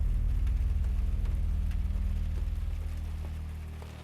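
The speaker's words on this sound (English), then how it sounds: "The steady drumming of the rain hitting the tin roof returned." Steady rain drums on a tin roof of a remote Appalachian cabin, a dense, continuous low rumble with scattered drop taps that stays loud throughout and eases slightly toward the end, with no voices.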